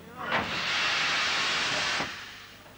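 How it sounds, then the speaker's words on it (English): A steam locomotive releases a loud, broad hiss of steam that starts abruptly, holds steady for about a second and a half, then cuts off, close by. "It's really a thrill to climb upon the footplate of a steam engine."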